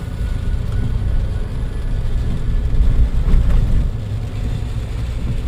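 A Suzuki Jimny rolls along a bumpy road on a rainy trip, heard as a continuous low, rumbling road and engine drone from inside the vehicle that swells slightly midway, with no voices.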